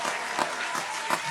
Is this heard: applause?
yes